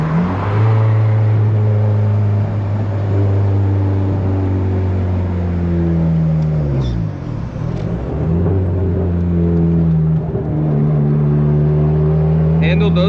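A turbocharged Honda Civic on coilover sleeves and a solid motor mount drives along, its engine droning loudly and rising and falling through gear changes from inside the cabin.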